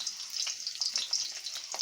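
Ginger, garlic and green chili frying in hot oil in a pan, a steady close sizzle with soft crackles running throughout the short stretch, no voices.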